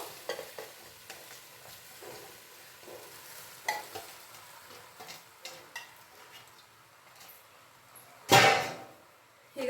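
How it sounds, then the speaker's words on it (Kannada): Pasta goes into a pan and is stirred, with soft scraping and light sizzling strokes at close range, then a sudden louder burst of sizzle near the end. No one speaks. "ಈಗ ನಾನು ಪಾಸ್ತಾನೆಲ್ಲ ಹಾಕ್ಕೊಳ್ತಿದ್ದೀನಿ"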